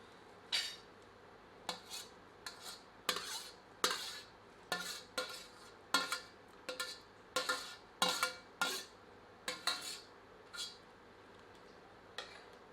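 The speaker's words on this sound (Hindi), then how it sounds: "अब इसमें उबाले गए आलूओं के टुकड़े एवं मिश्रण सम्मिलित करते हैं।" Boiled potato pieces and a spice mixture go into a pot for a no-onion, no-garlic bhandara-style aloo sabji. A metal spoon clanks against the pot about a dozen times in an uneven rhythm, close and clear, with no one talking.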